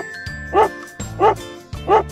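A dog barks repeatedly in the Grandfather Simulator video game, three loud, close barks spaced roughly evenly with faint jingling between them.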